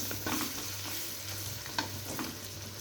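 Small chicken pieces sautéing for a potato and chicken curry, a soft steady sizzle in the pan broken by scraping stirs and the occasional clack of a spoon, with no talking.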